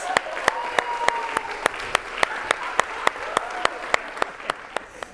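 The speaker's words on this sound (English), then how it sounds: "And round of applause." Audience applause at a machine-performance workshop session comes as sharp, evenly spaced claps in a steady unison beat, moderately loud over a faint background of voices.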